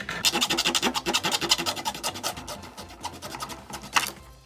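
The back end of a plastic syringe is cut off with rapid, rhythmic scraping and rasping strokes. They are close and fairly faint, with no talking.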